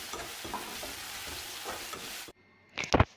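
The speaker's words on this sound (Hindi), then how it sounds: "प्याज को भी हम मध्यम आंच पर बढ़िया से लाइट गोल्डन होने तक अच्छे से फ्राई करेंगे" Finely chopped onions fry on medium heat for rajma, giving a steady, close sizzle that cuts off abruptly, followed by a short burst of spoon-against-pan stirring clatter.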